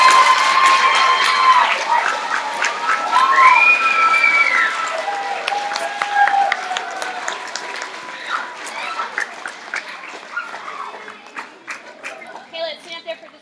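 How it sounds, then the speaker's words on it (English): Audience at a school event applauds and cheers, with loud dense clapping, some whistles and children's shouts at first, then the clapping thins into scattered claps as it tapers off. "round of applause."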